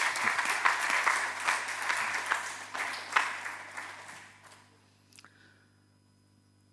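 A church congregation claps and cheers in praise during a service, a dense, sustained wash of applause that thins out and fades to near silence by the end.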